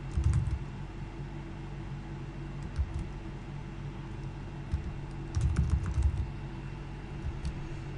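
Bursts of typing on a computer keyboard, soft keystrokes clustered near the start and again mid-way, with sparse clicks between, heard up close over a constant electronic hiss with no speech.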